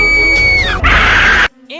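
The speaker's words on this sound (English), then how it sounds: "it reuses this fucking irritating ass scream" A shrill, piercing cartoon scream sound effect from a GoAnimate movie, loud and sustained with a sliding pitch, cut off abruptly and followed by a brief faint tail.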